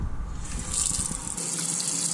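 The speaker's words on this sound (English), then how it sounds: "As I turn on the hot water," Hot water from the tap in a DIY van conversion's bathroom runs in a steady broadband gush, close and fairly loud, continuing throughout without talk.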